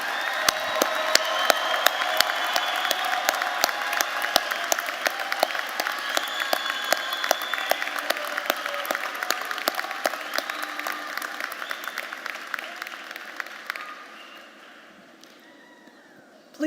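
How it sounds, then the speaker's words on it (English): An audience at a university commencement ceremony gives graduates a long, loud round of applause, dense clapping from a large crowd that continues steadily before tapering off near the end. "Audience, please give these graduates one more rousing round of applause."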